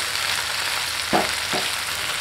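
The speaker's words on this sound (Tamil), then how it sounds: "இந்த டைமில் நம்ம க்ளீன் பண்ணி வச்சுருக்கிற வல்லாரை கீரையை சேர்த்துக்கலாம். அப்படியே நல்லா கலந்து விட்டுடலாம்." Vallarai greens drop into a hot pan with a steady broad sizzle. Two quick stirring scrapes, about half a second apart, stand out from the hiss.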